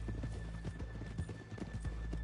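Several horses walk on a hard surface, with hooves clip-clopping in an irregular, overlapping rhythm, faint and fairly distant.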